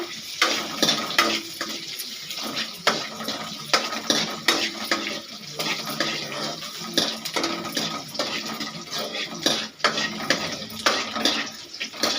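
Onions sautéing in a pan for an egg vada curry, a dense continuous sizzle with frequent clattering scrapes of a utensil against the pan, close and fairly loud, no voices.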